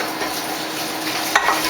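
Sauce in a pan on the stove giving off a steady, loud, close sizzle and crackle, with a brief clink of a utensil near the end and no talking.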